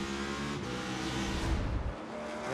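NASCAR Cup Series stock cars racing at Sonoma Raceway, a close, loud engine roar with shifting revs as cars brake and slide past one another, swelling briefly and then easing.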